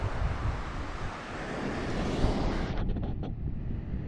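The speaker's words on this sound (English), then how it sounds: "I'm here at the ocean." Ocean waves wash against seaside cliffs under heavy, continuous wind buffeting, a broad roaring wash with no talking.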